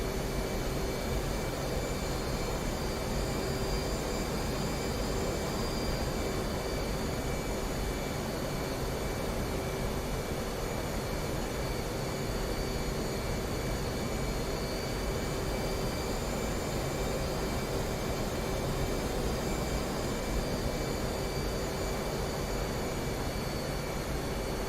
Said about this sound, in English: Touchdown with 250 pounds of fuel